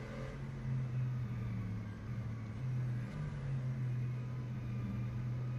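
Engine and transmission of a Mercedes AMG SLS GT3 racing at Toban Raceway Park in rFactor 2, a steady low droning rumble with a faint whine, rising and falling slightly in pitch as the car changes speed.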